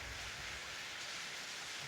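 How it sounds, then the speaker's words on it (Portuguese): Light rain falls outside in a steady, soft hiss that stays even throughout, with a low rumble beneath. "A chuva ela não tá muito forte de lá pra cá, não, mas ela tá vindo de lá pra cá"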